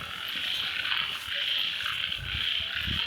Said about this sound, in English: Do you hear all those frogs?